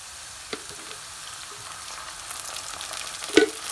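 Soft, steady sizzle of garlic ginger paste frying in a pan for a lamb curry, with occasional light clicks and a louder scrape near the end; no talking.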